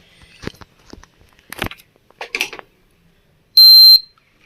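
A few soft clicks and taps, then one loud, steady electronic beep lasting about half a second as a Greenchef E2 induction stove switches on.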